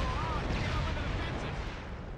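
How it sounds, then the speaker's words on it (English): Explosions and artillery fire rumble through a continuous, dense wall of combat noise in the video game Killzone, booming low and steady across the whole moment with faint tonal game sounds above. "I don't like all the explosions on this pipe right now"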